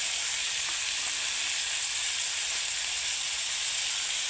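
Potatoes and tomatoes fry in a pan with cumin powder, salt and turmeric, a steady close sizzle and hiss that stays even throughout while being stirred, with no voices.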